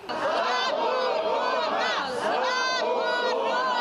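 About thirty protesters outside Ukraine's State Film Agency shout their demands for a ban on Russian TV series, a dense, loud mass of raised voices calling out together without pause.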